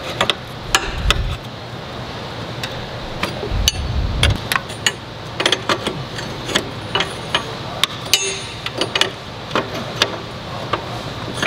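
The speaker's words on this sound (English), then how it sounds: "let me get my wrench and we can tighten this down." A wrench clicks and clanks against an oil cooler fitting on a Nissan 240SX, with a scatter of sharp metallic ticks and knocks, some close and loud, spread across a quiet garage background.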